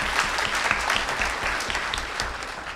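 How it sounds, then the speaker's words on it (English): An audience at a San Diego Comic-Con 2016 panel claps steadily, a dense, sustained burst of applause filling the room throughout. "So first, a big clap for that."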